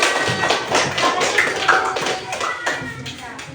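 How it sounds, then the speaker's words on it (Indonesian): Indonesian schoolchildren clap for a classmate after a short speech, a busy patter of hand claps and taps mixed with children's voices talking over it throughout. "Oke, tepuk tangan untuk temannya"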